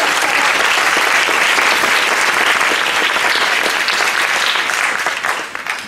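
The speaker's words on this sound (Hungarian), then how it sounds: "egy gyors taps erejéig megkérjük a tanárnénit" Audience applause at a Bartók memorial concert of piano music, a loud, dense burst of clapping filling the room for several seconds before tapering off at the end.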